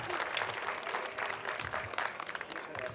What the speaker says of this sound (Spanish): les pido un enorme aplauso a todos los organizadores de esta maravillosa fiesta